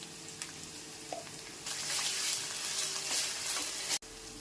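Green chilies, crushed garlic, onion and ginger-garlic paste fry in a pan with a steady hiss that grows louder after a quiet start and is briefly interrupted near the end.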